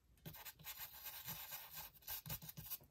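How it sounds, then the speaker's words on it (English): Stiff, rough scrubber paintbrush bristles rub against a surface in quick, faint, close scratchy strokes that come in short irregular bursts. "this one, for example, is called a scrubber. You can hear it."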